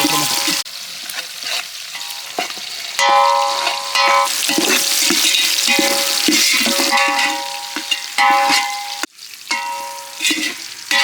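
Dried red chillies sizzle loudly in hot oil for chicken chinthamani, with crackling and spoon-stirring scrapes throughout, close and continuous.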